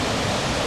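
Flash-flood water rushes in a steady, dense roar, like a fast torrent after a monsoon cloudburst, loud and continuous with no voices.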